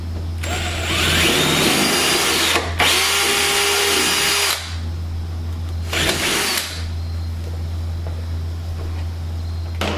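Power drill with a 3/16 inch bit cutting holes through an aircraft firewall for an MXSR engine install, several close, loud whirring bursts separated by short pauses, with a hum underneath.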